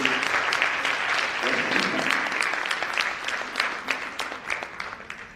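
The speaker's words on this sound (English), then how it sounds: "Would you want to clap like really loud?" A crowd claps loudly and steadily, a dense wash of applause that thins slightly toward the end.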